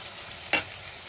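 Ivy gourd and coconut fry cooking in a pan, a steady faint sizzle with one short, sharp scrape of stirring midway, no voices.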